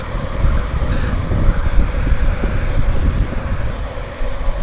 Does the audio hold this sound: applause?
no